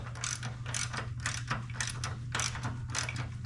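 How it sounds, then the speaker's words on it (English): Socket wrench ratcheting rapidly on the axle limiting strap bolts of a 1960 Morris Minor 1000 ratrod, steady bursts of clicking strokes about twice a second over a constant low hum, close and alone. "I ain't gonna break these bolts, not with this size of socket wrench."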